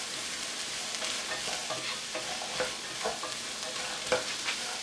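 Chopped vegetables and garlic are stirred in a soup pot over the heat, giving a soft steady sizzle broken by scraping, clattering stirs at uneven intervals.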